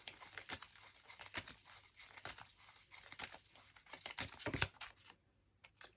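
Rapid papery riffles and slaps of tarot cards being shuffled and drawn, close and soft, in irregular flurries that fade near the end; no speech.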